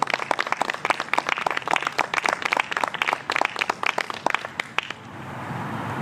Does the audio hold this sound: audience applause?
yes